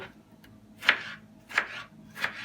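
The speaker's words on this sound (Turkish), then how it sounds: "böyle bir iki domates doğrayalım" Three crisp knife chops through tomatoes on a cutting board, spaced evenly about two-thirds of a second apart, close and distinct against a quiet background.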